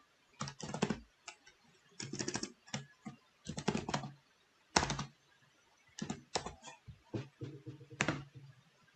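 A new password being typed on a computer keyboard, with quick bursts of close, crisp key clicks separated by short pauses, and no talking.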